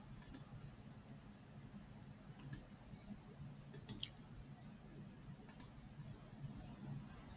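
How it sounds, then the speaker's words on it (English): A computer mouse gives soft paired clicks, four quick double-click bursts spaced a second or two apart, faint and close against a quiet background. "And then you right click to select."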